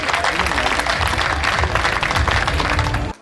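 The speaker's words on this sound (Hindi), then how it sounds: "एक बार दोनों हाथ उठाएं, ताली बजाएं और चंदन राय को बुलाएं।" An audience at a Hindi poetry recital in Kanpur claps loudly and continuously, a dense wash of applause that cuts off abruptly at the end.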